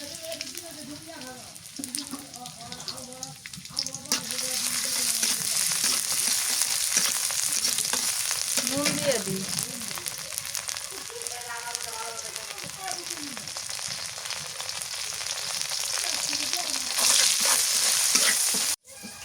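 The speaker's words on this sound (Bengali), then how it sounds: "রসুন আর মরিচটা ভাজা হয়ে গেছে" Crushed garlic and green chili frying in hot oil, a steady bright sizzle and crackle running throughout with stirring scrapes, while a voice talks faintly under it for part of the time.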